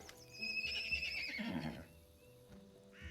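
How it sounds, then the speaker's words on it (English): Scared ponies in a video game snort and neigh close by, a short whinny followed by a breathy snort, over quiet background. "A pair of scared ponies stand before you. They don't run away, but they snort loudly and neigh as you approach."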